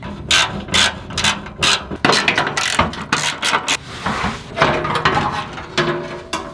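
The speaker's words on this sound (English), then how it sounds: "I'm gonna go ahead and take off my plate." Rapid ratchet clicking in repeated bursts as bolts come off a vehicle's underbody skid plate, close and fairly loud with metallic clatter between strokes, during work to flush the radiator cooling system.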